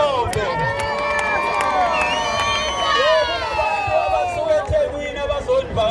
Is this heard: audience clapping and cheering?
yes